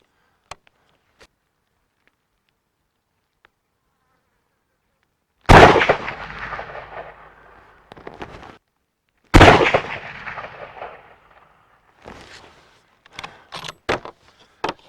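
A Savage Axis rifle fires two loud, sharp shots a few seconds apart at a 100-metre range. Each report rings and decays, and quieter clicks and handling knocks follow near the end.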